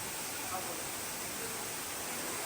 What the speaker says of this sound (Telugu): ఆ నీళ్లు పడుతున్నాయి కదా, దాని జల్లు వచ్చేసి వీటి మీద పడుతుంది